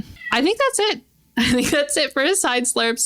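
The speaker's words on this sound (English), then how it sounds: "My apologies about the cat." A nearby cat lets out a brief meow or two, followed by a person talking over the rest.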